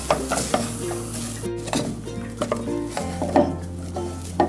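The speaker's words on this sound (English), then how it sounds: "mix until it forms a dough and comes out from the pan" Cheese croquette dough for Brazilian risoles de queijo being stirred and scraped in a pan, with steady scraping strokes and light clinks of utensil on metal over a low constant hum.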